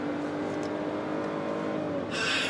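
A Mercedes-Benz E200 facelift with a 197-horsepower engine drives along with a steady, close engine hum and road noise, swelling briefly near the end.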